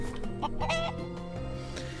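Chicken clucking in the video game Craft the World: a few short, close clucks ring out over steady background game music.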